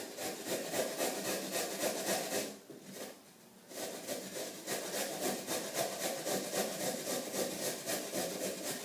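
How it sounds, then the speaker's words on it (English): A carrot is grated on a fine grater in a bowl, producing steady, rhythmic rasping strokes close by. The scraping pauses briefly midway, then resumes at the same even pace, with no talking. "So I'm going to use this fine grater that I have and just do it in the same bowl here."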